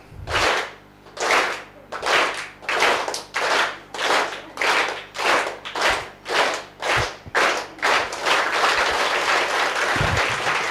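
A class of beginners claps hands in time on the teacher's count, a string of loud, evenly spaced group claps about one per second, each a short burst, ending in a longer continuous stretch of clapping.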